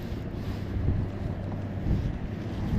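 Wind rushes steadily over a winter lake while bass fishing with a crankbait from a boat, a low broadband roar with gusty swells and no talk.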